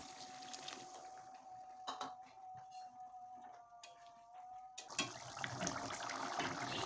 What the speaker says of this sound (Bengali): দিয়ে দিচ্ছি পরিমাণ মতো গরম জল